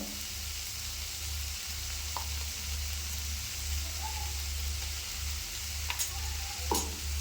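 Broad bean curry stirred in a frying pan, a steady soft scraping and sizzle running throughout with a low hum underneath and a few brighter clicks near the end.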